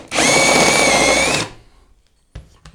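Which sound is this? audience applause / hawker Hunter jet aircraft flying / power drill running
power drill running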